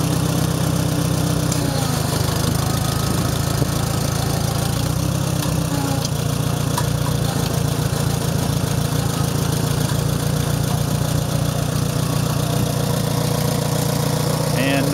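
A 1973 IH Farmall 140 tractor engine running steadily at a constant idle, a loud, unbroken mid-to-low mechanical drone that stays close and even throughout with no talk over it.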